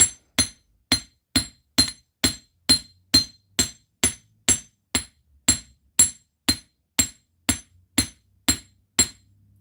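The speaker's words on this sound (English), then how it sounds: "So we're gonna pound these down." A hammer pounds items down in a garden, about twenty sharp metallic strikes in a steady, evenly spaced rhythm, loud and close with bright ringing clinks and quiet between the blows.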